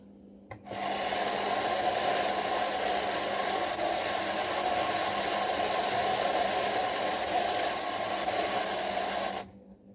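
A drum carder runs wool fleece fibers through for about nine seconds, a continuous loud rasping whir that starts and stops abruptly and holds steady with no talk.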